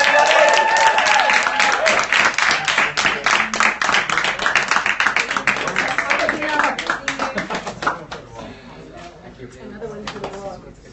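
A press-conference crowd claps loudly for a band, dense rapid hand claps that gradually thin out and fade, with voices talking underneath.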